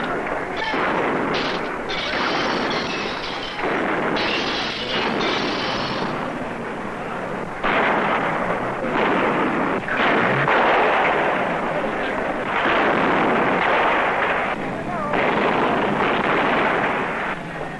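Gunfire and explosions from a 1962 archival labor film about sit-down strikes: loud, dense bursts of shots and blasts that come in repeated waves over a rough, continuous background with little quiet in between.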